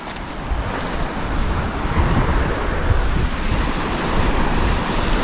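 Choppy sea on the Norfolk coast, with loud continuous surf washing in and steady wind buffeting the microphone, no voices.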